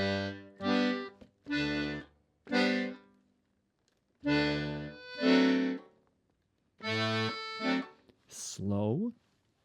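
A slow, halting beginner rendition of a song melody, single sustained notes played one at a time with pauses between phrases, close and clear, and a brief voice near the end.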